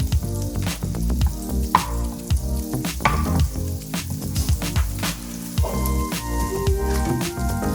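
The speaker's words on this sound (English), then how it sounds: "We live for the sizzle." Butter sizzles and crackles steadily in a hot pan, loud and close, with occasional scraping and stirring clatters over the continuous hiss.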